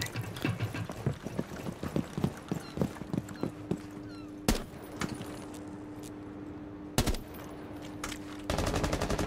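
Gunfire in the video game Rainbow Six Siege, bursts of rapid sharp shots in the first half, then a few isolated loud cracks and a final sustained burst, with no talking.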